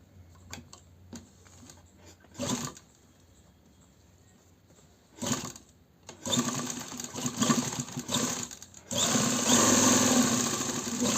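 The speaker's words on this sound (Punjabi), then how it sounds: "ਆਪਾਂ ਸਲਾਈ ਸਟਾਰਟ ਕਰਦੇ ਆ" A sewing machine stitches an embroidered suit in short bursts of rapid mechanical clatter, separated by quiet pauses and ending in a longer, louder continuous run.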